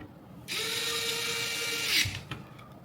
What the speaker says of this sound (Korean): 나사 5개를 준비해 주시고 체결을 해보도록 하겠습니다.